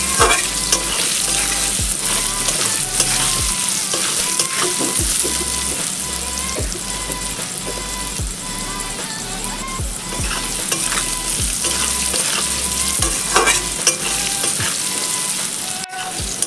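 Salted potato pieces sizzle steadily in a hot pan while a spatula stirs them, giving a continuous crackling bed broken by regular scraping knocks, close and loud, with no talking.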